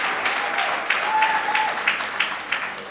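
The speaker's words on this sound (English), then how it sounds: "Please, really applaud." Audience applause at an evening stage show after a performer asks for more, a crowd clapping with scattered sharper individual claps standing out, fairly steady and moderately loud throughout.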